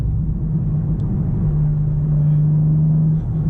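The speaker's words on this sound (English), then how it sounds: "It is fun to go through the gears." BMW M4 CSL engine held at a steady, low droning pitch through the upshifts, loud and close with a continuous rumbling tone and a brief dip near the end.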